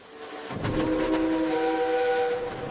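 Cartoon train chugging along and sounding a whistle, the steady puffing starting abruptly after a brief quiet moment and running loud and close, with bright sustained whistle tones sitting over it.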